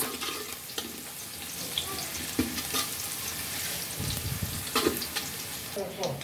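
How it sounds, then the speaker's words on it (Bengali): Chopped onions sizzle in hot oil in a kadai while pulao is being prepared, a steady close hiss with a few soft clicks and stirring scrapes throughout. "দেখো কড়াইয়ের ভিতরে দিয়ে দিলাম পেঁয়াজ"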